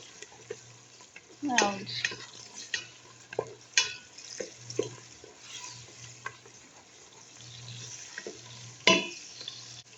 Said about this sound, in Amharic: በሽንኩርት በዚህ መልኩ እየበሰለ ነው